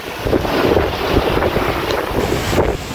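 A sailboat pushing through rough open sea near Saint Lucia at night, with heavy wind buffeting the microphone and water churning and splashing against the hull in continuous surges.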